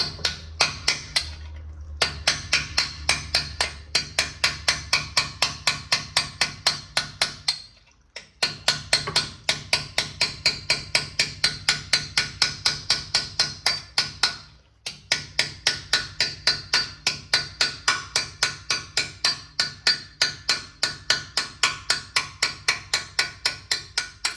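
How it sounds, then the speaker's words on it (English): Rapid, evenly spaced metallic hammer taps on a punch driving out a lock ring on a 1978 Ford Bronco Dana 44 axle ring out in long runs, pausing briefly twice before resuming at the same brisk rhythm, close and clear. "Now we take a hammer and a punch. Got to take the lock ring out."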